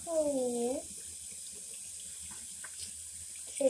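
Water runs steadily from a sink tap while a reborn doll bottle is rinsed, a continuous soft splashing flow with a brief vocal sound at the start and end.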